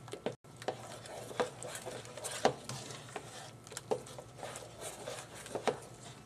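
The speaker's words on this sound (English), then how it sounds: "stir this in a little bit" A spoon stirs cream cheese into a Creole sauce in a pan, giving soft, faint scraping and a light wet patter with a few small clicks against the pot.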